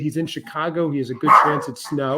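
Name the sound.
dog barking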